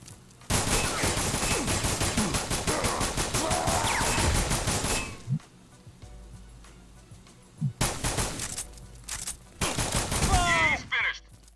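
Rapid automatic gunfire in a multiplayer shooter game, loud sustained bursts of fusillade close by, then a pause and more short bursts, with players talking between volleys.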